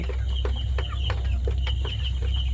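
Chickens on a poultry farm cluck in short repeated calls over a constant low mechanical hum, several birds near and overlapping.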